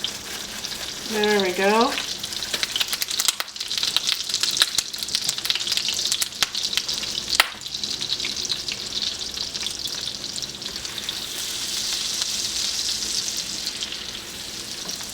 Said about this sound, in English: I'm going to toss in my onions while that's melting